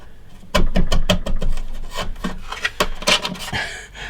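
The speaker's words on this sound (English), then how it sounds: "I'm just chiseling it carefully" A chisel shaving wood off a guitar tone bar, a close run of quick scraping, rasping strokes in uneven bursts, loud and without talk.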